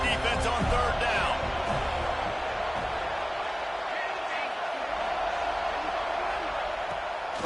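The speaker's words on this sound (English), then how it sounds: "Decibels rising as the crowd gets behind this defense on 3rd down." A large football stadium crowd roaring on third down during a college game between FSU and Washington, a dense continuous roar at steady loudness, with a commentator talking over it.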